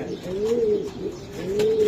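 Nun pigeons give two soft, drawn-out coos, close and clear, one after the other with a brief pause between them.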